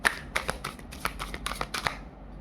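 Tarot cards being shuffled at close range in a run of quick papery riffles and slaps, roughly seven bursts over a couple of seconds, with no voices.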